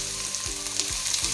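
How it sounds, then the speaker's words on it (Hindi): Chopped onions frying in oil in a pan, a steady close sizzle with a few soft stirring or scraping swells and no voices. "एक पैन में हम थोड़ा सा ऑयल डालेंगे, इसमें हम कटी हुई प्याज डाल के इसको ब्राउन कर लेंगे"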